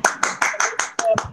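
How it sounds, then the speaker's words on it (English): Students in an online chef's live demonstration class clap, sounding like a handful of close, distinct claps in a quick steady rhythm, about seven in a row, with a voice faintly underneath. "So, students, can we have a round of applause for Chef Ayesha?"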